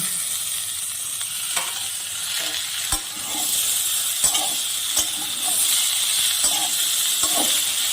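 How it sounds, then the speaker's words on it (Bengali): Chopped tomato dropped into a hot pan with fried potatoes for a prawn curry, giving a bright steady sizzle with repeated sharp knocks and scrapes of a spatula stirring, close and loud. "আমি প্রথমে টমেটো কুচিটা দিয়ে দিচ্ছি।"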